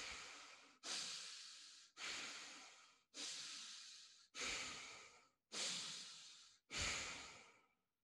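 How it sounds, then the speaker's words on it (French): Deep, slow breaths during a guided meditation, seven long airy exhalations in an even rhythm, each starting sharply and trailing off, close and quiet with short pauses between them. "Inspire, expire. Inspire, expire."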